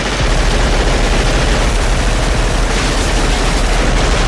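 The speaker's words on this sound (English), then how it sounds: "Okay, everyone, stop shooting randomly." Sustained, dense automatic gunfire from the 1987 film Predator, loud and continuous with no pauses, a roaring wall of shots filling the whole stretch.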